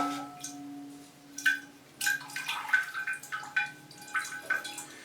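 Water dripping and trickling while orchids are watered, a scattered series of small splashes and plinks of uneven rhythm, close and fairly soft over a faint steady hum, with no voices.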